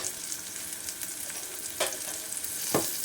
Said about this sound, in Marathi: पूर्ण हलवून घ्यायचं